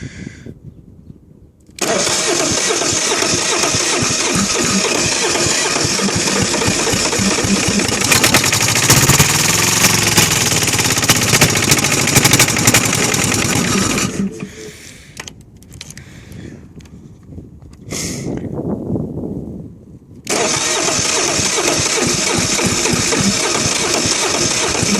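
A Kohler KD425-2 engine cranks with a chugging rhythm, then catches and runs loudly, sputters and drops off around the middle, then revs back up and keeps running steadily until the end.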